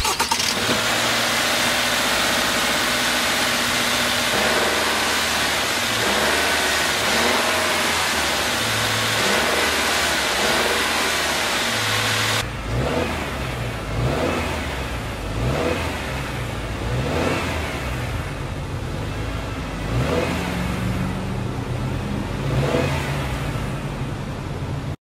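A 2024 Subaru Legacy Touring XT's 2.4-liter turbocharged boxer four-cylinder revs repeatedly, loud and close, with a dense throaty exhaust note that rises and falls in steady pulses with no talking.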